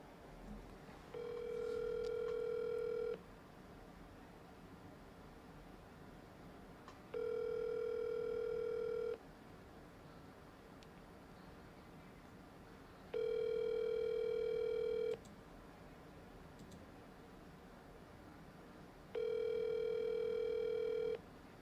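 Ringback tone of an outgoing telephone call to a real estate agent, four identical steady buzzing rings about two seconds each, spaced several seconds apart over quiet line hiss with no answer.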